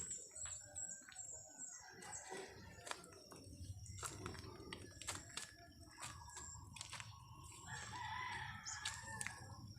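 Roosters crowing amid clucking hens and occasional wing flaps, several drawn-out calls from different directions over a busy farmyard background.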